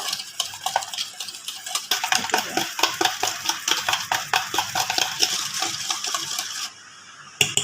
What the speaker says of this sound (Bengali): এভাবে আমি ডিমের সঙ্গে চিনিটা মিশিয়ে নেব